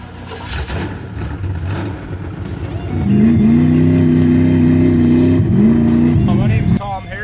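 A 1973 Chevy truck engine idles roughly, then revs up hard and holds a loud, high, steady roar for about three seconds before dropping back down, all close by.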